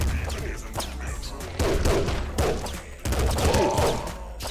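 Bursts of game gunfire from a slow-firing weapon in Nuclear Throne, with several loud shots and explosive crashes in uneven rhythm, layered over a steady low soundtrack.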